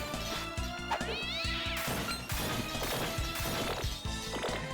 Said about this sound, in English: Doing as a cat does, just throwing everything over.